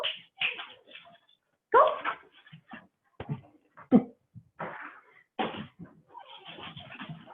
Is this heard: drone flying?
no